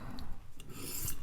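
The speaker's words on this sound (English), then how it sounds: "These refining strokes are just going to remove the fine burrs," A knife blade is drawn in fine refining strokes across a sharpening surface, giving a steady soft rasping rub that stays close and fairly quiet.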